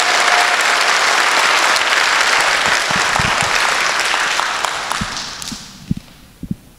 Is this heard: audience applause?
yes